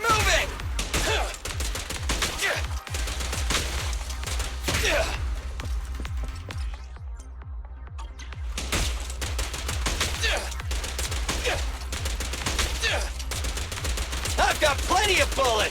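Rapid bursts of gunfire crackle nearly nonstop, with a brief lull in the middle before the volleys resume, loud and close amid a dense, chaotic mix.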